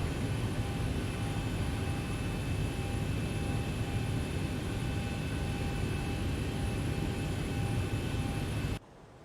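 Aircraft engines spool up after pushback on an Amsterdam to London Heathrow flight, a steady, broad roar with a faint high whine that holds evenly throughout and then cuts off abruptly at the very end.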